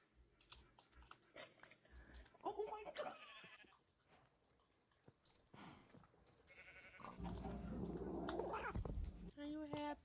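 A cat meows in short bursts during a gaming session, close to the microphone, mixed with talking, shuffling and other room noise.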